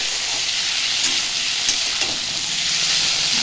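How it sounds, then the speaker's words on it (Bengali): Figs and crab frying in a pan for a curry, giving a steady loud sizzle with faint stirring scrapes throughout. "আগে প্রথমে আমি ভেজে নিচ্ছি।"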